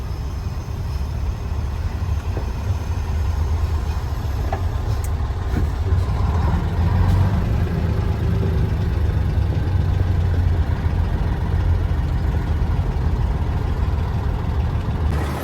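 A 1518 truck's engine runs steadily with a deep, continuous low rumble, close and fairly loud throughout, while the driver shifts gears, with slight changes in tone partway through.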